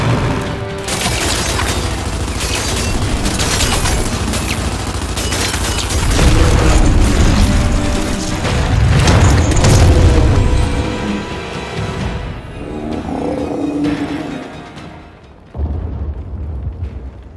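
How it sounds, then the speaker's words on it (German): Grenade blast in the Xbox Series X shooter Gears 5, a loud sustained rumble of booms and crashing debris with heavy low end, swelling midway and fading toward the end before one last thump. "Granate in der Fresse!"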